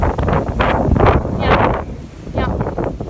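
Strong wind buffets the microphone in a frozen forest, coming in loud, rough gusts that swell and fade in irregular bursts.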